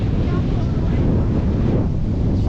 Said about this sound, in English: The conditions are 20-mile-an-hour winds, rough, mid-tide